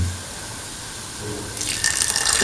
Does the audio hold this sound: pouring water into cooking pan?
yes